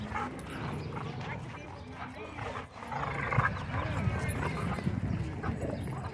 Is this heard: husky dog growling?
yes